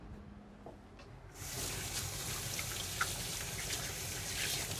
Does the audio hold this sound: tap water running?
yes